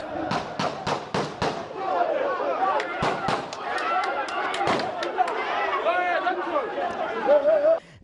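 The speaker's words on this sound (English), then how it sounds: "Gunshots were fired." A rapid burst of sharp gunshot cracks, then sporadic shots continuing under loud crowd chatter and shouting.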